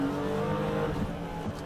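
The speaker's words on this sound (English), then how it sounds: "They're revving up that car." BMW M5 with a V8 engine revving on a street, a steady low rumbling drone of engine and road noise at moderate distance, without speech.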